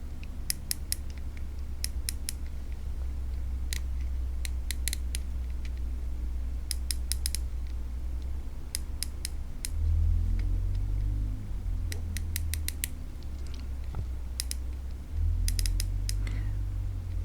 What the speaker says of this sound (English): the clicks on the Chronarch MGL seem a little more refined and more metallic.